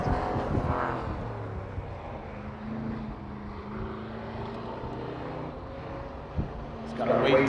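A Toyota Supra race car on a race track, its engine droning steadily at a distance and rising as it passes, with a commentator talking over it throughout.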